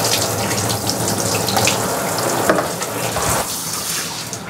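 Water runs steadily from a shower head while a young child is bathed, a continuous close splashing rush with no voices over it.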